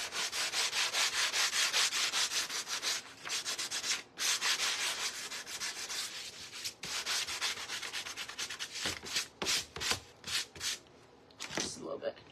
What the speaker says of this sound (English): I'm going to take my sander here just a little bit and just kind of smooth it out a little bit.